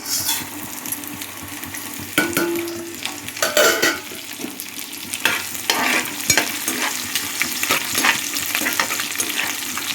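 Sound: spices frying in oil

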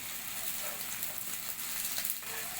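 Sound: fox nut (makhana) patties flipped and frying in a pan

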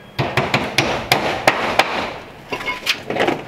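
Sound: hammering nails into stucco lath wire

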